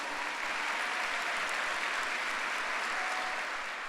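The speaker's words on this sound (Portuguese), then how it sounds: "Pode aplaudir Jesus." Congregation at a Sunday church service applauding, a thick, even wash of clapping from many hands that continues steadily without a break.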